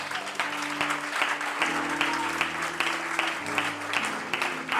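A church congregation at a Sunday service claps steadily in a dense burst of applause, with sustained organ or keyboard chords underneath and faint voices.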